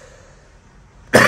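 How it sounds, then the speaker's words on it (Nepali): A single loud, close cough bursts out at the very end after a stretch of quiet room tone. "बुढो खोकी लगाएर"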